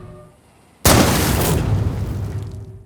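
A booby-trapped rifle cartridge blows up inside a sniper's gun in a film scene, a sudden loud blast that bursts out of near silence and then rolls on as a long, roaring wash of debris and rumble.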